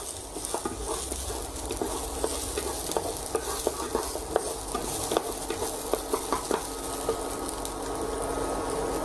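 Aromatics stir-fried in a pan for a mushroom steak sauce, a continuous sizzle dotted with quick, irregular clicks and scrapes of a spatula, close and steady, with no one speaking.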